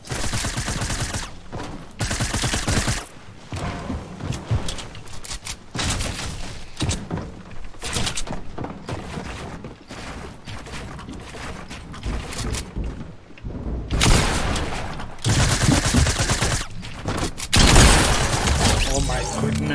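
Gunfire in a Fortnite 1v1 match, with repeated sharp shotgun blasts and other weapon shots over several bursts, loud and close, with a player talking in between.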